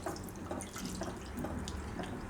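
Two cups of water pour into a kadai pan in a home kitchen, a steady splashing stream running the whole time at close range, alone without speech.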